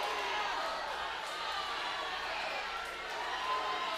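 Dense, steady crowd roar and cheering fills an arena at a mixed martial arts fight event, loud and continuous throughout with no clear speech.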